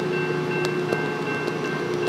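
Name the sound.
Tri-Rail commuter train departing Pompano Beach station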